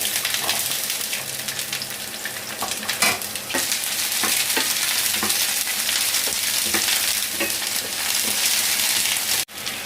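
Onions and other ingredients for a tomato chutney sauté in hot coconut oil in a pan, giving a loud, continuous, close-up sizzle broken by stirring scrapes and a brief clatter near the end, with no voices.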